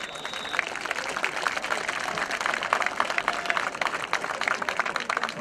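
Distant crowd applause and cheering from a large audience at an American football game, steady and moderately faint, sustained for several seconds.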